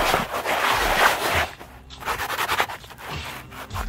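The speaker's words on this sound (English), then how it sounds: "whenever you're scuffing, to go ahead and scuff along the lines around the stitching, not quite the stitching itself" Someone scuffs a stitched fabric apron with rough, repeated rubbing strokes to give it a distressed look. The scraping comes in close, uneven bursts with a brief pause in the middle.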